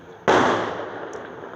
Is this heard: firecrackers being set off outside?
yes